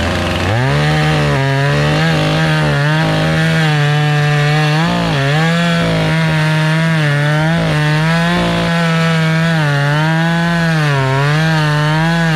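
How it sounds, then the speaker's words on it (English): A chainsaw runs loud and close while felling a tree, its engine droning steadily and shifting pitch as it bogs and revs through cutting. "Now I've got to go get my chainsaw."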